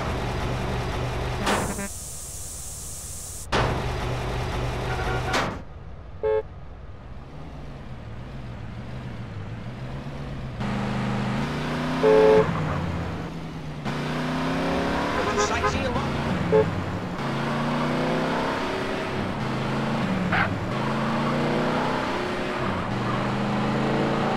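A BMW M5 E60 engine in GTA San Andreas revs and accelerates through repeated gear changes, rising and dropping in pitch at a steady, moderate level, with talk over much of it.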